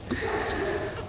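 A baby goat on a farm gives a short, wavering bleat close by, with soft rustling and faint background noise around it.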